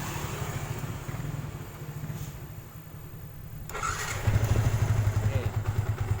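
A Yamaha Vixion New motorcycle being started: a low, rumbling engine sound with cranking, then the engine catching and settling into a louder, steady idle, while someone talks over it.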